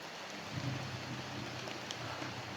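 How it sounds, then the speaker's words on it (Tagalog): Heavy rain outdoors at night, a constant hiss of falling water with faint scattered drops and no break in the downpour. "Malakas na yung ulan mga lods."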